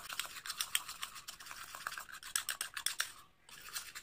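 Coffee powder face mask paste stirred briskly in a small bowl, quick scratchy swishing strokes in a fast uneven rhythm, close and fairly soft, with a short break near the end.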